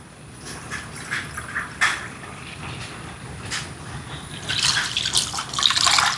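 Water poured from a cup into a cooking pot for a chicken rice dish, trickling and splashing that swells into a louder pour near the end, close by, with no speech.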